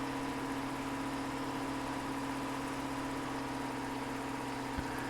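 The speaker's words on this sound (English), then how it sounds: "Definitely a sick tractor." A Case IH Quadtrac tractor in Farming Simulator 2017 idles with a steady, faint, even hum and no talking, broken only by a single small knock near the end.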